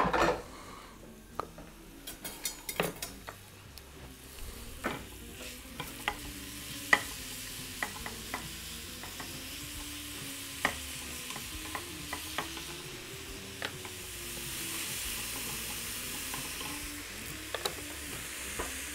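Chopped onion sizzling in melting, caramelizing cane sugar in a pan, stirred now and then with scraping clicks against the pot over a steady close fry, no talking.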